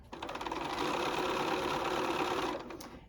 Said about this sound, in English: So we're just going to stitch around that top.